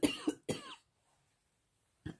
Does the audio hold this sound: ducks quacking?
no